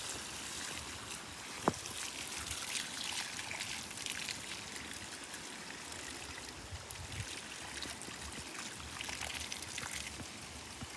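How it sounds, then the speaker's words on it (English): Water pours into a planting hole for a fruit tree, streaming and splashing nearby in a continuous pouring rush with one brief click early on. "I'm going to fill this up with water."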